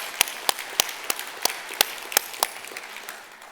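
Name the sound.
church congregation applauding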